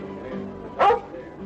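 A collie in the film Lassie: The Painted Hills gives a single short, close bark that rises out of a quiet background.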